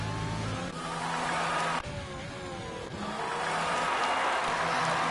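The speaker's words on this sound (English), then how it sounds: "A couple of the cars coming onto the track for their second run at qualifying." F1 race cars driving onto the track in a sim racing game's qualifying session in Hungary, a steady high engine whine with shifts and tire noise, loud and continuous, no talk.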